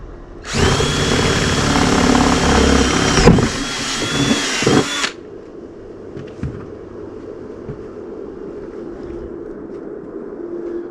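A power drill bores a hole sized for a spigot in a worm compost bin, a loud high whine lasting about four seconds with a brief dip, then stopping, followed by faint handling noises in a quiet room.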